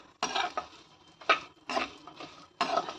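Raisins in ghee are stirred in a pan over medium flame, giving four or five short scraping strokes of a spoon against metal with a soft sizzle between them, close and alone.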